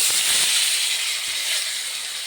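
Chicken fries in white oil in a frying pan, giving a loud, steady, close hiss and sizzle that runs throughout with slight rises and falls and no talking.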